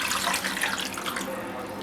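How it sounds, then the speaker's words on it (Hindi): Water streams steadily into a cooking pot holding skin-on chicken pieces, a soft continuous splashing pour that fades slightly toward the end, with no talking. "इसमें डालेंगे 1 कप पानी"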